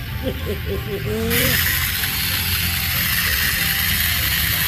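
A small plastic toy bee clatters and whirs as its wheels roll along, a steady mechanical rattle after a brief burst of squeaky chatter.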